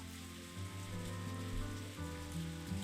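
Rain falling in the video game Animal Trail Girlish Square: a soft, steady hiss of rainfall with gentle musical tones running underneath, fairly quiet and without voices.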